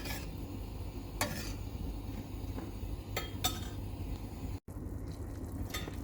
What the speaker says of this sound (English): As it's simmering, keep giving it a bit of a stir every now and then.